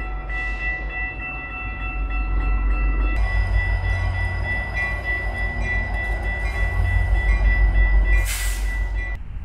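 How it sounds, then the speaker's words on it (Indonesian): A train approaches in Chicago with a steady low rumble of rail cars that swells in loudness, a high steady tone running through it, and a short bright burst near the end. "Wah, kereta apinya masih jauh guys"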